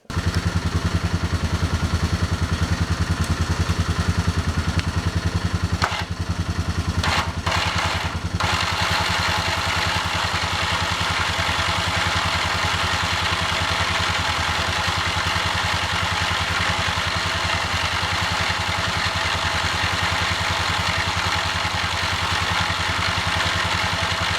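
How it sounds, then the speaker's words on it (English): A four-wheeler ATV engine idles close by with a steady, loud mechanical drone and clatter that runs unbroken throughout, dipping slightly after a few brief knocks early on. "fire up the four-wheeler so I don't drain my battery down"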